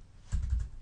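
A brief burst of typing on a computer keyboard, a few quick soft key clicks close to the microphone, lasting under half a second with no talking.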